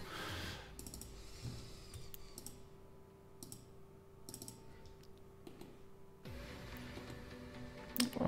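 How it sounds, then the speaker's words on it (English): Scattered keyboard clicks from a macro keyboard at a workbench, sparse bursts of sharp taps separated by quiet gaps, closer and busier toward the end. "So you can hear the keyboard."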